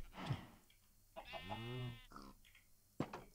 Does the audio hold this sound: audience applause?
no